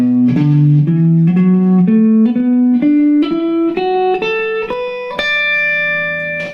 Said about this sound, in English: when they play with a clean sound, it sounds like this.